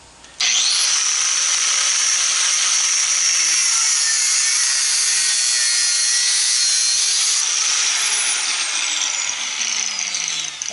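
A power tool with a thin cutting blade slicing through a scrap copper dryer, a loud steady high-pitched whine starting abruptly and running continuously close up.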